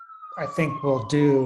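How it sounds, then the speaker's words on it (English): A single emergency siren holds a steady wailing tone outside throughout, sitting under close indoor speech from a person talking. "sorry for the sirens"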